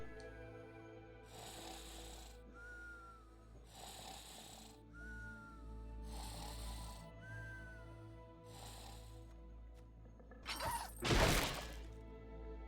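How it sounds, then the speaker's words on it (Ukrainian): In the video game Sons of Valhalla, something falls and shatters with one sudden, loud crash near the end, following a stretch of quiet, rhythmic breathing-like ambience. "Там щось впало і розбилось"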